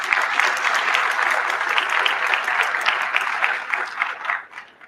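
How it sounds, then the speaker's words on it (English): A convention audience applauds steadily with dense, even clapping that tapers off at the end. "If you could give them a round of applause"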